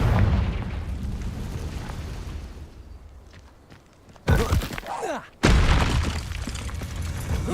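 The Confringo blasting spell from Hogwarts Legacy goes off in a sudden heavy boom with a burst of crackling debris, cutting sharply in over a low rumbling game soundtrack and ambient noise.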